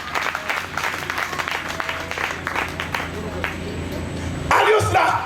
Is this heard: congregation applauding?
yes